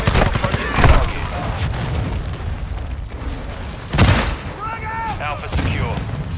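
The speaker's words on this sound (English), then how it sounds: "Friendly cruise missile approaching the target." In a Call of Duty-style Shipment match, a cruise missile strike lands with two heavy booms about three seconds apart over rattling gunfire, with voice chatter in between.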